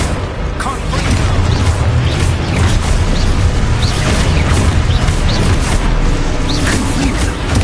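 Confringo fire-spell blasts in Hogwarts Legacy combat land as loud, dense booming bursts and crashing impacts, packed together over a continuous roar of battle effects.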